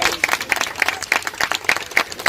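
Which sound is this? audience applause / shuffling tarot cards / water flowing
audience applause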